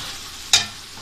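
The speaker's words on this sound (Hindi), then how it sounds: "अब हम इसमें चावल डालते हैं।" Rice poured into a pot of frying meat and yogurt for yakhni pulao, giving one short, bright burst of sizzling that fades back into a steady low hiss.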